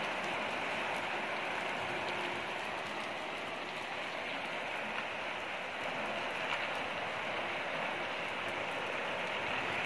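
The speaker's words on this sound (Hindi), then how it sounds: "और यहाँ हो रही है हमारे घर पे बारिश, और दिन में बहुत ज़्यादा बारिश हो रही है।" Heavy rain pours down outside a home, a dense, steady hiss of drops on surfaces filling the whole stretch without a break.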